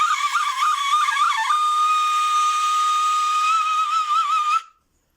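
Kurai flute blown from the far end to imitate a crane's cry gives a loud, piercing whistle-like tone, warbling at first and then holding one long note before stopping abruptly.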